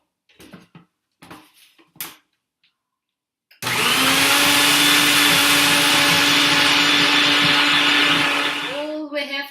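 After a few brief spoken words, a loud, close blender starts and roars continuously for about six seconds, mixing a no-bake pumpkin pie filling, its pitch shifting slightly as the contents churn before it winds down.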